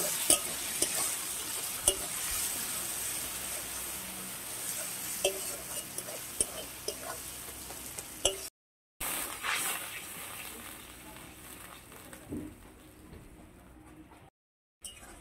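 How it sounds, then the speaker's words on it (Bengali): Masala of ground chilli and cumin frying and being stirred in a pan for a ridge gourd kalia, a steady close sizzle broken by scraping stir strokes, with a brief cut near the middle and another near the end. "মশলাটাকে ভালো করে কষে নেব।"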